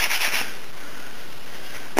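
A WASR-10 Romanian AK-47 rifle stock being sanded by hand: a short rasping stroke at the start, a stretch of soft hiss, then a brief sharp scrape near the end, close and moderately loud.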